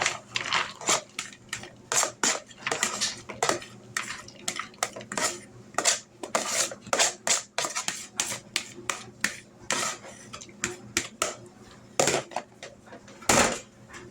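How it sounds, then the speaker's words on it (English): Mixed nuts for candying tumble into a metal pan in a long stream of sharp clattering rattles, with dense bursts of hard clicks and skittering, irregular and close, and no talking over them. "We're going to dump all these nuts in here."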